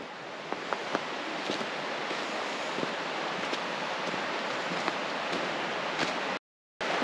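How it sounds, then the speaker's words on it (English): A river flows beside a winter campsite with a broad, steady rushing hiss, faint and continuous, dotted with small ticks and cut by a brief dropout near the end. "Beautiful river."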